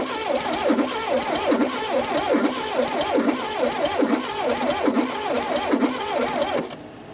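Old Plymouth car engine being cranked over without starting, a rhythmic whirring starter drone with regular pulses, close and loud, stopping just before the end.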